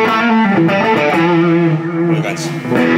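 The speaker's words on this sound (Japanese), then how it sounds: "結構ドンシャリな歪みにもなるので" A Stratocaster electric guitar played through a distortion pedal with a scooped, mid-cut tone, sustained chords and notes ringing loudly and continuously throughout.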